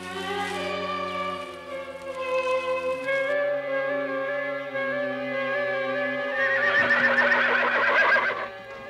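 A horse lets out a long, loud whinny close by, its pitch wavering and rising into a shaky, trembling finish.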